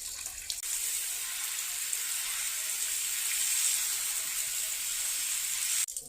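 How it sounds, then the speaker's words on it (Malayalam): Water drains through a plant pot's drainage hole with a soft, steady hissing trickle for several seconds, then stops abruptly near the end. "ഒഴിക്കുന്ന അത്രയും വെള്ളം താഴേക്ക് ആ ഹോളിലൂടെ പോകണം"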